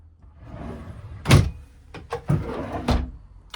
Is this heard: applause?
no